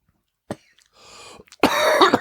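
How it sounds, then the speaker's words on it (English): A man clears his throat up close: a sharp cough, a short raspy pause, then a loud, gravelly throat-clearing rumble. "Let the man clear his throat."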